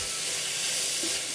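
Green chillies and curry leaves sizzle in hot oil in a pan of onions for a pepper chicken dish, a steady, close frying hiss that holds at an even level.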